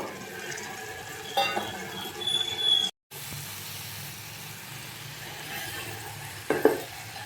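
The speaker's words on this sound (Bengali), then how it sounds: "ভাজা আলুগুলো দিয়ে দেব।" Fried potatoes go into a pan of aloo chicken curry and get stirred, with a soft steady sizzle and a few brief clattering stirs close by. No voices.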